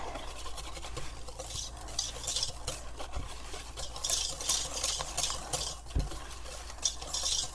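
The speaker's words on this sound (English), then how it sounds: "And then we're going to add our sour cream and egg and vanilla. And mix that in." Sour cream, egg and vanilla being mixed into chocolate stout cake batter, a steady close scraping and stirring with occasional light utensil clicks against the bowl, continuous without talk.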